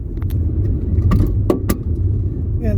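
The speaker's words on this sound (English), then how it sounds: "I'm going to move the car." A car runs close by as it is about to be moved, its low engine rumble steady throughout, with keys jangling and a few sharp clicks and knocks on top.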